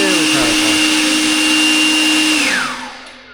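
A Kobalt leaf blower runs on turbo, a loud, steady high-pitched whine with a constant tonal drone that holds and then winds down as the motor slows at the end, with no speech over it.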